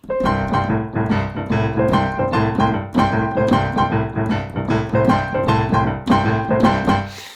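Busy boogie woogie piano playing with a driving, repeated right-hand pattern over a steady bass, loud and continuous throughout.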